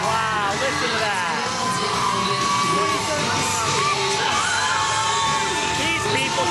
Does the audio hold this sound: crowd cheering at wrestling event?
yes